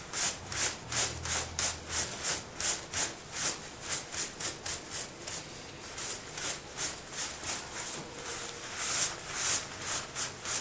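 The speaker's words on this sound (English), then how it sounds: "I'll rub it off and see what happens." A sooty surface is rubbed with a steady back-and-forth motion, giving a rhythmic series of dry scrubbing strokes, roughly two per second. It is close and moderately loud, with no talk.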